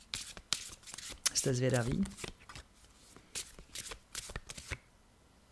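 Tarot cards being shuffled up close, a run of crisp riffling slaps and soft flutters in uneven bursts, heard alongside someone speaking Czech.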